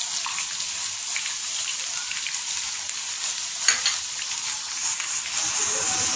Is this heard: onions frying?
yes